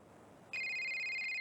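A telephone rings in the video game Evan's Remains, a steady electronic ringtone that starts abruptly and then holds on, loud and clear, with no talk over it.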